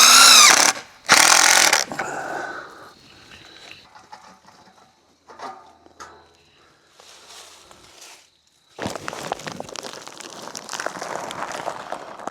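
Power drill driving long screws into a tree trunk on a hillside, heard as two loud, close whirring bursts near the start, followed by quieter handling and rustling sounds and a stretch of scraping and crunching toward the end.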